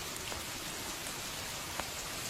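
Rain falling in a steady, dense hiss, with occasional faint drop ticks standing out briefly against the constant wash.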